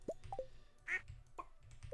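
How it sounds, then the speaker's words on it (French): Cartoonish duck quacks from the farming game Stardew Valley, several short separate calls spread over two seconds, fairly close and clear over a low, soft game background. "Mes petits canards, pardon."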